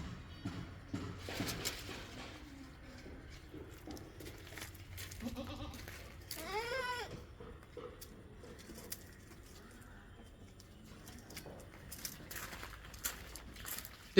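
A young female goat bleats once, clear and fairly close, with birds cooing and chirping around it in an open outdoor setting.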